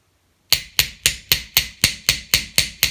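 A small metal hammer taps a jewelry ear wire on a hard block, giving ten or so crisp, evenly spaced, close strikes with no talking.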